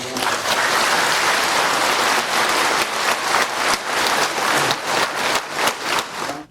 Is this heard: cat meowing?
no